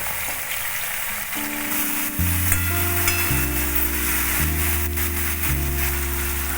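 Taro stolons frying in a pan with cumin paste, a steady loud sizzle with stirring scrapes, and a background tone shifting in steps throughout.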